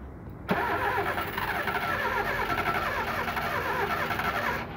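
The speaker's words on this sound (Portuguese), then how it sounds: "O carro não pega de jeito nenhum." A car engine in a Brazilian workshop, being checked for a faulty temperature sensor, cranks hard without catching. Steady churning runs close and loud from half a second in and keeps going nearly to the end.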